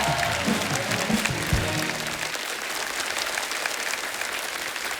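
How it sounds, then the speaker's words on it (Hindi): Loud audience applause greets a host called to the stage at a live show. The clapping is dense and sustained, with music or voices underneath at the start that drop away, leaving the applause alone. "जोरदार तालियां जय के लिए"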